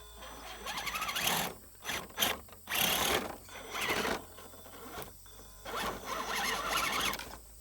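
An aluminum-built Axial SCX10 II RC crawler with a Jeep Cherokee XJ body on 1.9 RC4WD Interco tires, climbing over an obstacle. Gears whine and ratchet in bursts with pauses between them, close and fairly loud.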